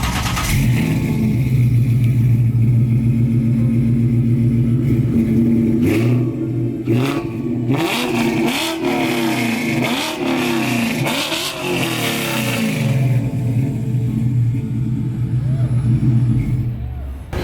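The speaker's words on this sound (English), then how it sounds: "I walked by this Mustang and got to about right here before I realized, wait a minute, that's a Coyote motor." A Ford Mustang fitted with a Coyote V8 sits at idle, then revs hard in several sharp bursts before settling back to a deep, steady idle. Nearby people talk.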